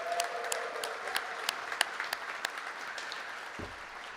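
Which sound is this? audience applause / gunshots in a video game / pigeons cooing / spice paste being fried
audience applause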